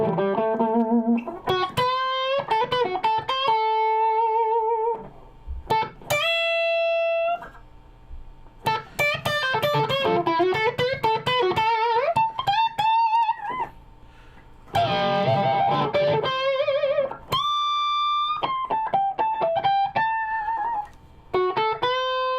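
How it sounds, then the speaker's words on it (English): Sustained plucked guitar notes ring out with a wash of reverb, tones sliding and bending, bright and close, with short pauses between phrases. "I'm going to pull up a little bit of reverb here because I'm going to give myself just a little bit of ambience"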